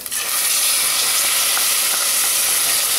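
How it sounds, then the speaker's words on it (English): Pureed tomatoes hit a hot pan for a vegetable curry, giving a loud, steady sizzle and steamy hiss that runs unbroken throughout, with no talking. "We're going to add in our pureed tomatoes."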